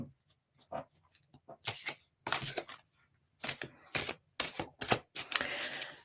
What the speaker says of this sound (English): Trying to shuffle quickly without sending the cards everywhere.